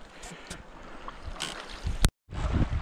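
River rapids rush past a boat travelling through Yukon wilderness, with close, broadband water noise, wind buffeting the microphone, and a few sharp splashes and knocks before a brief dropout.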